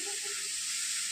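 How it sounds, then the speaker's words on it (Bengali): Chicken kosha for a fourth birthday party frying in a kadai, a steady close hiss and sizzle holding evenly through a brief moment. "চিকেন কষা রান্না করছে আমাদের দিদি"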